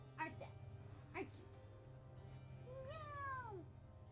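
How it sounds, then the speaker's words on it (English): A pet cat meows to be fed indoors, with two short chirpy meows followed by a longer drawn-out meow, fairly close, over a steady low hum with some quiet background chatter. "She is being a little meower right now, though, because she wants to be fed."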